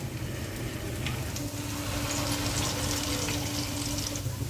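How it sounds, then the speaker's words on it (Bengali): Small fritters of hinche greens and lentil batter frying in hot oil give a steady, dense sizzle and crackle that runs evenly throughout, close and fairly loud, with no voices. "এবার হিঞ্চের বড়াগুলো ভেজে নেওয়ার জন্য দিয়ে দিচ্ছি ছোট ছোট সাইজ করে।"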